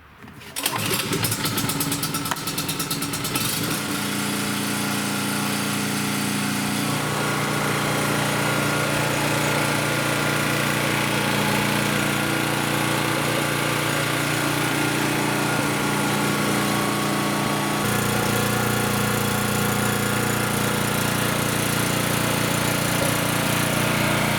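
Small gasoline generator with a previous no-compression fault, choke on, cranks and catches within seconds, then runs steadily at a loud, high, buzzing idle that continues to the end, close by and with no talking.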